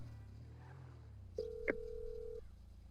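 An in-game phone call being dialed in GTA 5 Online: a single clear dial-tone beep, held steadily for about a second, faint but close, following low background hum with no talking.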